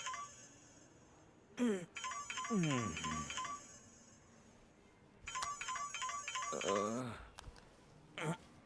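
A mobile phone ringtone plays twice in short repeated bursts of bright electronic tones, fairly loud and near, with a voice briefly sounding between the rings.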